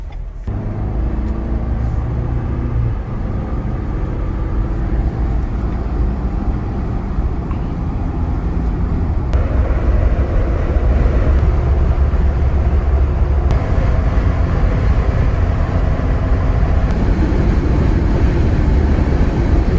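A Ford Bronco accelerates on a test drive, its engine and road noise a steady loud rumble from inside the cabin that builds slightly over twenty seconds, with no talk.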